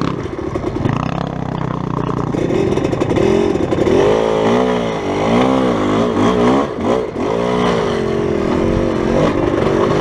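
A motorcycle with an auto clutch climbs uphill in second gear, its engine revving up and down in repeated surges, loud and close throughout.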